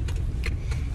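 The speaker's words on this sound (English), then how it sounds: "as you could probably tell I'm in the car, so it's a bit shaky" Interior of a moving car: a constant low, rumbling road and engine drone fills the cabin, with a few light rattles and clicks on top.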